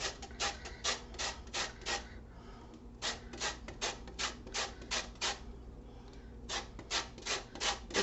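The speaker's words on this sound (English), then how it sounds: "we are going to put just a little bit of zest here from a lime that I've got" A lime is zested on a grater for a taco casserole, giving close, quiet raspy scrapes in quick bursts of several strokes each, separated by short pauses, with no talking.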